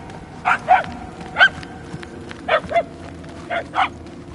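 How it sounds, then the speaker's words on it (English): A dog barks in the Guardians of the Galaxy video game, giving four pairs of short, moderately distant barks at a steady pace over a quiet ambient hum. "The barking is getting fainter."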